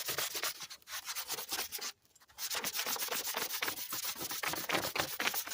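Hand sanding with flexible sandpaper gives quiet, rapid rhythmic rasping strokes close by, broken by one short pause before the scrubbing resumes, with no voices.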